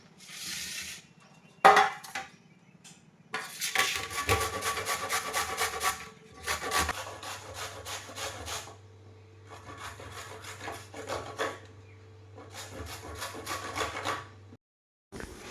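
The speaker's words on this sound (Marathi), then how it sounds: "ह्या सगळ्या आंब्यांच्या साली काढून झालेल्या आहे आता ह्या आंबेना खिसून घेते" Peeled raw green mangoes are grated by hand, giving rapid rhythmic rasping strokes in several bursts separated by short pauses, close and fairly quiet, with a low steady hum beneath some passages.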